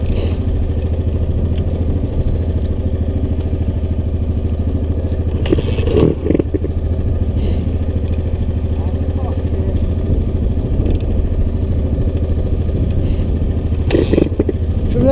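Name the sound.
motorcycle engine being started and idling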